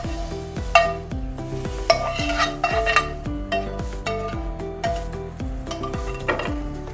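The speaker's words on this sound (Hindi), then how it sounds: "अब इसको अच्छी तरह मिक्स कर लेते हैं।" A spoon stirs a sheer khurma mixture into milk in a pot, giving a close run of regular scraping strokes with soft clinks against the metal over a faint sizzle, and no talking.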